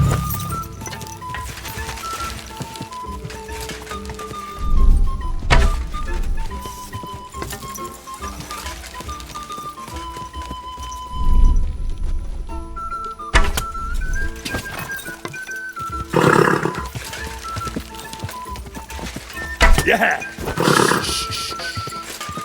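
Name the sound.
horse neighing and hooves in the video game Kingdom Come: Deliverance II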